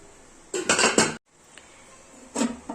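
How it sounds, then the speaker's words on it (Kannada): A metal vessel for making papad is handled, giving two bursts of clanking and scraping metal-on-metal, then a short pause and a fainter final clink, close by. "ಇದು ಹಪ್ಪಳ ಮಾಡೋ ಪಾತ್ರೆ, ಹಪ್ಪಳ ಮಾಡೋ ಪಾತ್ರೆ ತೋರಿಸ್ತೀನಿ"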